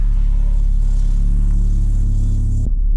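The engine of a Senator B luxury sedan runs close and loud, a deep steady rumble that drops abruptly near the end.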